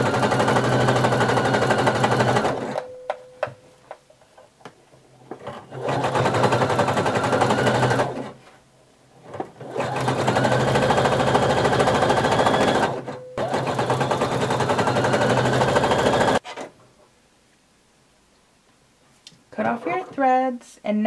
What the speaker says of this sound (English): we're going to sew a neat zigzag stitch all the way around, folding under the elastic as you get to it